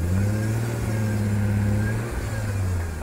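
A GM 110 V6 Vortec engine runs for the very first time in a project car, holding a loud, steady, throaty drone up close before the revs dip briefly and then settle again.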